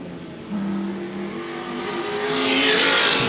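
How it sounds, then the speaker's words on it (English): A Lotus 15 race car drives through the chicane at Goodwood Revival, its engine note rising and swelling as it approaches and accelerates, loud and close by the end with no talk. "Lotus 15 through the chicane"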